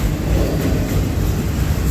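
Norfolk Southern freight train 18N, an underpowered consist with mixed foreign-road cars, passes at close range in Jeannette, Pennsylvania, giving a steady, loud rolling rumble with faint wheel clatter and no voices.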